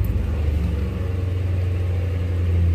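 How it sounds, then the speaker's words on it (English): A 2006 Lincoln Town Car engine cranks in flood mode with the gas pedal floored, a loud, steady low mechanical drone that holds for the whole stretch without catching. "flood mode, key on, gas pedal to the ground, cranker"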